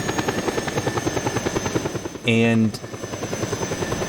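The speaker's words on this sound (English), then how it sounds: "I need to get the helicopter down." A helicopter in the video game Just Cause 2 makes a steady, rapidly pulsing rotor chop throughout, with a brief tonal beep partway through and someone speaking a word over it.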